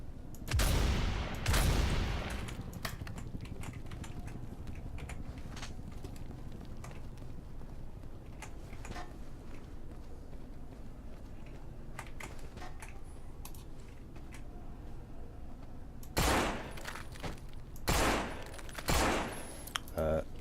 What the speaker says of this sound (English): going to do is just waste this shotgun on the blokes down the alley here